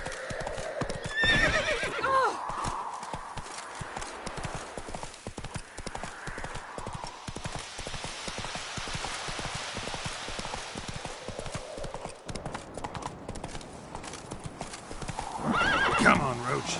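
Roach, the horse in The Witcher video game, gallops with fast steady hoofbeats and lets out neighs near the start and end, with a voice talking over the action.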